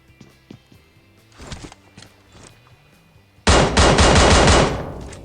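Gunfire plays in a Commando-style shooting video game. A few scattered shots and thuds come first, then a loud, sustained burst of rapid automatic fire fills the last couple of seconds.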